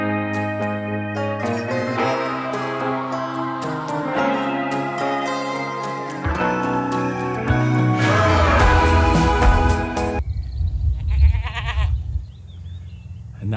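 Sheep, a ram, bleating outdoors on a Scottish hillside walk while wild camping: several loud, close, wavering bleats in a row, then quieter open-air ambience.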